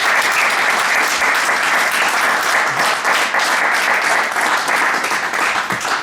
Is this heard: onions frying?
no